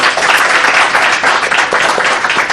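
A loud, sustained round of applause from the crowd at a Comrades Marathon send-off event, hands clapping densely and evenly from start to end.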